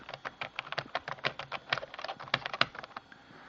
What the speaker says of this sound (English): then I can type at my leisure